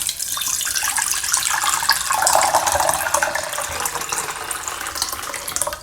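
Filtered tap water runs from a kitchen water filter into a glass, a steady close splashing stream with bright hiss that holds without pause, and no one talking.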